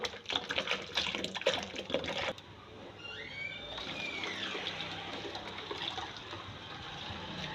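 A kitchen blender grinds soaked almonds with measured water, a loud churning whir for a couple of seconds that then drops to a steadier, smoother spinning hum continuing to the end.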